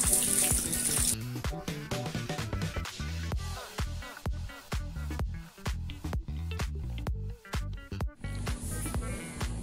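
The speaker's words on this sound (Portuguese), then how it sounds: "agora nós vamos lavar bastante para remover todos os pelos." Mutton meat washed under a running tap in a kitchen, water pouring steadily with wet slapping, squishing and splashing as the pieces are rubbed, close and continuous with no talk.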